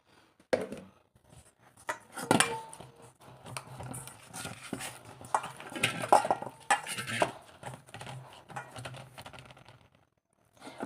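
Flour dough is worked by hand with a little oil for village-style egg rolls. Irregular soft slaps, squishes and clicks come close up with pauses between them, and no one speaks.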